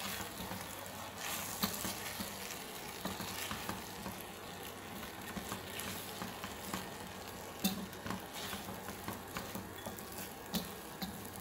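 Tomato paste mixture stirred in a cooking pot for Madrouba warak enab, a steady low sizzle with soft scraping and clinks repeating throughout, fairly close and unaccompanied by voices.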